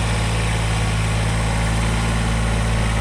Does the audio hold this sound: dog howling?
no